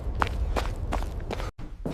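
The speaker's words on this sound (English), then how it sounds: "the footsteps kept getting closer." Footsteps as a sound effect, a series of about six steady, evenly spaced heavy steps, close and fairly loud, with a brief dropout near the end and no voices.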